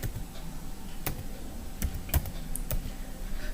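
Several crisp keystrokes on a computer keyboard as a short command is typed, a handful of separate clicks spaced irregularly over a quiet room background, with no one speaking.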